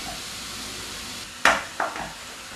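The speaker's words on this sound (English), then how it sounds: "Stir fry it for another minute or so." Beef and broccoli stir-frying in a hot pan for a beef and cashew nut stir-fry, a constant close sizzle broken by two sharp clanks of a utensil against the pan.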